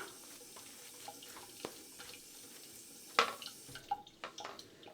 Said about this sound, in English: Just a little bit of water to thin this out a little bit.